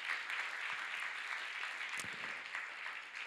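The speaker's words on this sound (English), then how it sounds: "Round of applause for Meng for all of his hard work." Audience applause at a bio summit, steady clapping from a crowd honoring one person's hard work, moderately distant and fairly quiet throughout, with no talk over it.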